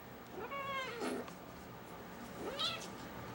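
A cloned Turkish cat meows twice, each a rising then falling wail about two seconds apart, heard close and alone over a faint steady background hum.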